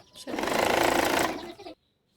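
Sewing machine stitching a kameez: one short, fast, close burst of needle chatter that lasts about a second and a half, then stops abruptly and leaves near silence.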